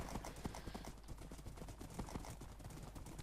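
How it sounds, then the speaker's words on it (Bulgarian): Horse hooves clip-clop steadily in the video game Minecraft during a party minigame, a quick, continuous run of close hoofbeats with no talk over them. "Просто изведнъж не можех да мръдна коня"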